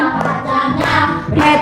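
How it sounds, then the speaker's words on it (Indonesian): Audience clapping in a classroom setting, a short burst of applause that swells in uneven waves, close and fairly loud. "Boleh tepuk tangan."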